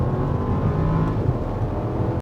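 Bentley Bentayga EWB with its V8 pulling hard at full throttle, a loud continuous engine roar heard from inside the cabin that holds steady before cutting off abruptly.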